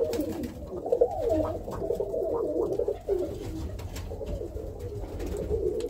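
Birmingham Roller pigeon cocks in a breeding loft coo in low, rolling phrases close by, with a few overlapping calls and soft background rustle.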